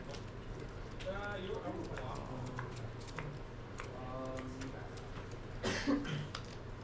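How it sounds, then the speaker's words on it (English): A brief cough breaks out in the background near the end, under a steady murmur of voices talking. "Someone just cough in the background?"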